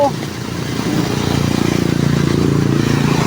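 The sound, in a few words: motorcycles and tricycles passing on highway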